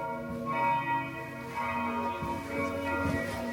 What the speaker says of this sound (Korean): 교회가 가까워지자 성스러운 종소리가 울려 퍼졌는데요.